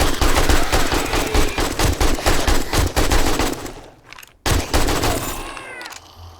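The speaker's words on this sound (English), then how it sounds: "I'm pulling the AK out for this one." AK rifle fire in the zombie survival game 7 Days to Die: a rapid, loud string of close automatic shots in quick bursts, briefly pausing before another short volley and a fading tail.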